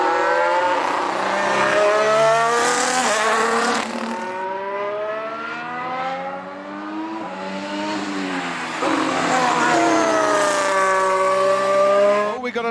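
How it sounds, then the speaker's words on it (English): Formula 1 race car engines at a Dutch Grand Prix in a Lego-built race scene, with loud high-pitched engine whine rising and falling as cars rev, shift and pass, continuous and close. "So into the pit lane comes Lewis Hamilton."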